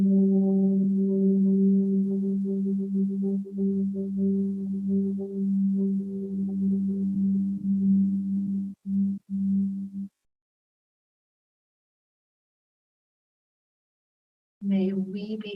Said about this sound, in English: let's wrap up the time we shared together with the sound of Om